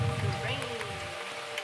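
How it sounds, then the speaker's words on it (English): Rain just beginning to fall patters with a soft, continuous hiss and scattered drops. A faint voice sits underneath the rain. "that was me saying that it just had started to rain"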